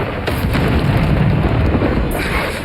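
A Bombarda explosion spell in the video game Hogwarts Legacy goes off in loud, booming bursts over a dense background of spell and combat noise.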